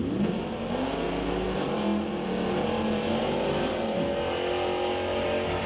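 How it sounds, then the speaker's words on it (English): A Dodge Dart drag racing car does a long burnout on the far side of a drag strip, a continuous loud engine roar with rising and falling revs and tire noise. "A long burnout from Chris Stone on the far side of the racetrack"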